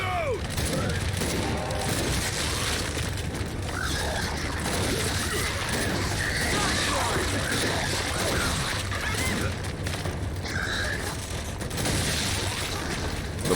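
Continuous gunfire from the video game Gears 5, dense rattling bursts of shots with mechanical clacks running steadily throughout at high volume.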